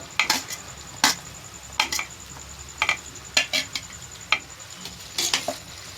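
A spoon stirs onion with garlic-chilli paste sautéing in oil in a pan for paneer chilli, giving sharp metallic scrapes and clinks at irregular intervals over a soft sizzle, close up, with no voices.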